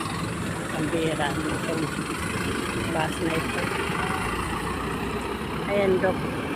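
Steady low engine rumble of an idling bus in Manila, constant throughout, with traffic noise and occasional faint voices in the background.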